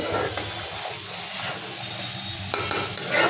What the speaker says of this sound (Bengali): আর এদিক দিয়ে মশলা কষাই নিতেছি সব মশলা বেটে দিছি